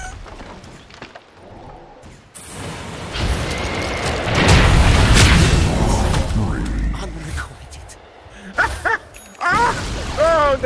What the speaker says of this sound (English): Radiant's bottom tower has fallen.